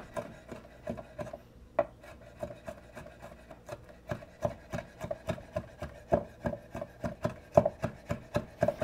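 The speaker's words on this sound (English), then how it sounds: "And then really, it's just more chopping." A knife chopping raw beef heart on a cutting board for tartare, in a quick, regular series of sharp taps that gets louder and faster toward the end, heard close up with no talking.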